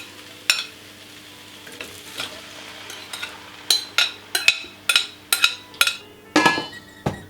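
Apples with cinnamon tipped into a hot wok, giving a run of sharp clinks and scrapes over a soft sizzling bed, with the bursts growing denser toward the end.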